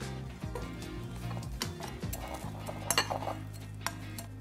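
Onion powder, garlic powder, salt and chili flakes for fried chicken are mixed in a bowl, a spoon clinking and scraping faintly and unevenly, with a few louder taps toward the end.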